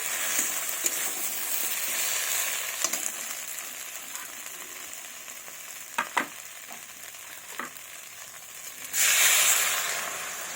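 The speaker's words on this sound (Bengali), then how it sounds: "তো এবার আমি দিয়ে দিব জল।" A cooked-down spice paste sizzles steadily in a pan for a fish and tender bottle-gourd-shoot dish, with occasional pops, then water is poured in, producing a sudden loud, rushing hiss near the end.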